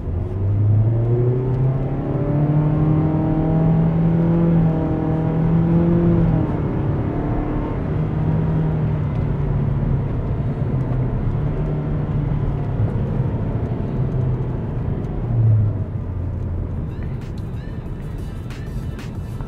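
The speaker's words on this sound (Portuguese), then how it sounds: "Vamos dar mais uma aceleradinha aqui para sentir os 160 cavalos e o câmbio CVT desse carro." Mitsubishi Outlander 2.0 with a 160-horsepower engine and CVT gearbox accelerating, its engine note holding a steady, sustained drone with rising harmonics, loud and continuous with no talk over it.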